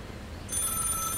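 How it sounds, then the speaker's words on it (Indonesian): An old telephone rings with a bright, trilling electric bell that starts abruptly after a moment of quiet background and continues steadily, faint in the mix. "Telepon tua ya, guys. Telepon jadul."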